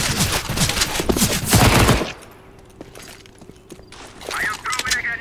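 Gunfire in the video game CS:GO: a loud dense burst of shots for about two seconds, then a quieter pause with a few faint clicks and more shooting toward the end.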